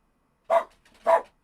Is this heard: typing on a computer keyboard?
no